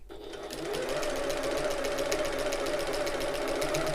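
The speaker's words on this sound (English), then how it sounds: "I'm sewing as far as the first dividing line" A sewing machine stitches a shoulder bag up close, starting after a brief pause and running in a steady, fast, rhythmic drone with an even tone.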